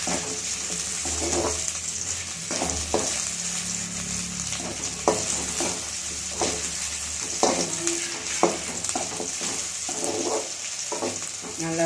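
Garlic and ginger sauté in a pan, crackling with a steady sizzle under repeated scraping and stirring strokes, close and moderately loud.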